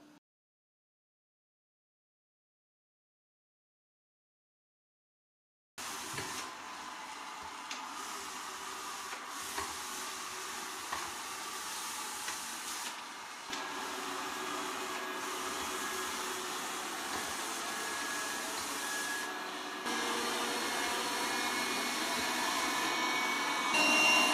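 Ventilation fan of a Yeedi Mop Station robot mop base running indoors, a steady broadband whooshing hum that starts abruptly after several seconds of silence and continues evenly, growing slightly louder, with no talk.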